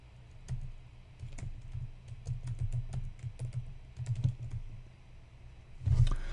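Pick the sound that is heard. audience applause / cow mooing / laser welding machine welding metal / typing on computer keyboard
typing on computer keyboard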